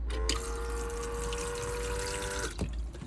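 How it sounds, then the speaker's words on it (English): Flush fluid in an Elddis Majestic 130 caravan toilet pumping at a button press: a steady electric pump whine with running liquid, starting with a click and cutting off after a couple of seconds, close by. "Flush fluid pumps around from this button just here"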